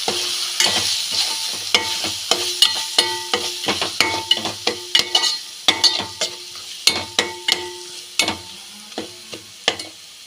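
Mutton masala sizzles in a pan while sambar powder is stirred in, a spoon scraping and clacking against the pan in a quick irregular run over a steady frying hiss.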